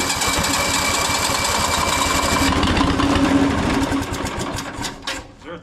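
An old two-cylinder Cummins diesel engine that sat dormant for more than twenty years, cranking loudly on its starter with a steady, rapid, chugging pulse that falters and dies away near the end, close by.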